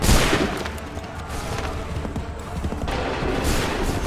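Musket volleys ring out in an Assassin's Creed III battle, dense overlapping gunfire crackling and booming as a sustained fusillade, loud and close, with a faint bit of soldiers' shouting underneath.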